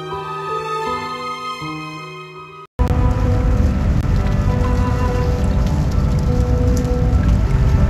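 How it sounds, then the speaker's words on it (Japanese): Rain pours down outside in the video game Reverse 1999, a dense, loud, steady wash that starts abruptly after a short stretch of music. "雨の音だ。 きっと外で雨が降ってるんだ。"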